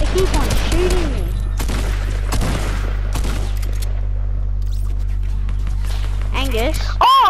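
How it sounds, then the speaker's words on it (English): Rapid gunfire bursts in Fortnite during the Travis Scott event, loud and repeated over a steady low game drone, with excited voices talking over it. "Oh gosh, I'm getting shot at! I'm getting shot at!"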